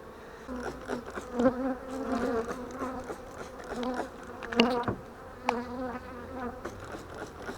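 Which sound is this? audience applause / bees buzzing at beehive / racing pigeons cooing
bees buzzing at beehive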